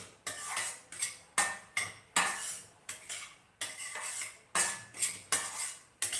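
Semolina being dry-roasted in a pan until brown, dominated by a repeated rhythmic scraping and clinking of a metal spoon against the pan, about a dozen close, crisp strokes with no voices.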